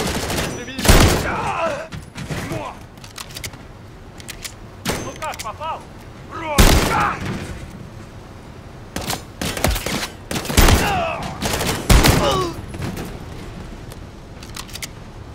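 Gunfire rings out in the video game Call of Duty Modern Warfare 3: loud, sharp bursts and single shots at irregular intervals, with brief quieter gaps between them and occasional voices mixed in.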